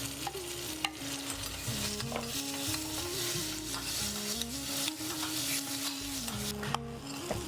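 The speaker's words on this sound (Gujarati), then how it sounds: "આપણો વઘાર સરસ થઈ ગયો છે." Ginger, curry leaves, chili and cumin sizzle steadily in hot oil in a pan, a continuous close frying hiss with occasional stirring scrapes throughout, no speech.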